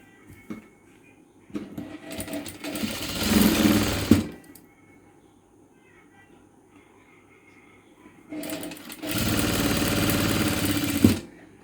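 Two bursts of a sewing machine stitching a frock shoulder seam, each a few seconds of rapid, steady mechanical whirring, close and moderately loud, separated by near silence with faint handling sounds.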